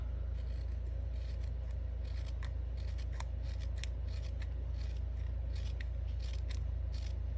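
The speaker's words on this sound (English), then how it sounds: "You just don't want to cut all the way through to the bottom." Scissors snip through paper to make a hydrangea paper flower, a quick series of crisp, close cuts in irregular bursts over a low, steady background hum, with no one talking.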